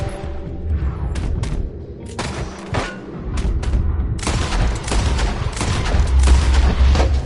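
Gunfire in Red Dead Redemption 2 rings out as a dense fusillade of booming shots and thuds, with rolling bursts layered over a steady rumble through the whole stretch.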